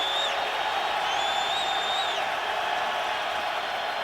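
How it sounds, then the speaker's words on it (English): Steady roar of a football stadium crowd at an NFL Raiders vs Texans game in 2007, a dense continuous wash of noise with some whistling tones rising above it, loud throughout. "this crowd is way into it now, and I think they're going to become a factor"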